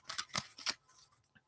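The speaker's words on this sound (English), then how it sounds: "They're pretty big cards though, so I hate shuffling these" Large tarot cards are shuffled by hand in a few quick riffling bursts, close and crisp, then taper off into a couple of faint taps.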